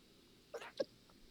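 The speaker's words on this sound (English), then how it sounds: "I sneezed out the train of thought." A single quick sneeze, a soft intake followed by a sharp burst, close and fairly quiet against a hushed room.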